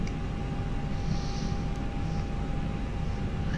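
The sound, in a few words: A320 engines on takeoff roll in a flight simulator video game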